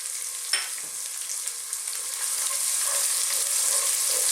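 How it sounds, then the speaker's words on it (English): Chopped onion, garlic and ginger frying in a pan for a vegan cauliflower curry, a steady broadband sizzle that grows slightly louder, with a soft clink near the start and occasional stirring scrapes. "simply at this stage we're going to cook this on a kind of medium or above medium heat"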